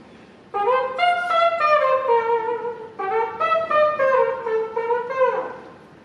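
A man produces a vocal trumpet imitation away from the microphone, a brassy, buzzing sung line of repeated phrased notes, steady and fairly loud in a room, ending with a falling slide.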